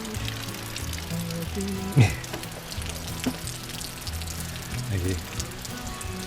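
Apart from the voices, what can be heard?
heavy rain while camping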